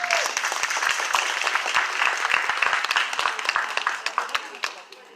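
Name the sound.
round of applause for panelists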